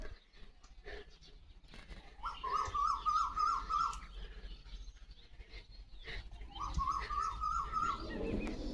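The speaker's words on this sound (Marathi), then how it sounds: "ती कोकिळा काय म्हणते बघ" An Asian koel calls out in the farmland in two separate bouts of repeated, rising notes. The calls sound moderately distant against a quiet rural background.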